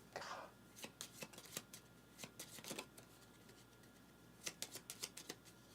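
Cards for a board game are shuffled quietly up close, giving bursts of crisp riffling and snapping clicks in irregular clusters, with no talking.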